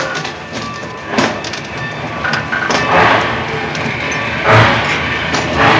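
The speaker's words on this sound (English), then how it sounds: "This is the right train." A passenger train rumbles along close by, its cars rattling with a continuous loud roar and a few rhythmic clacks, with no talking over it.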